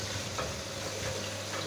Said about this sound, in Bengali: এই যে চিংড়ি মাছ আর পেঁয়াজ আর রসুন কুচি ভেজে নিচ্ছি।